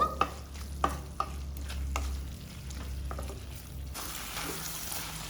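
Bamboo shoots frying over a low flame, stirred with a few sharp scrapes of a spoon against the pan at the start, then a steady soft sizzle that brightens toward the end, no voices.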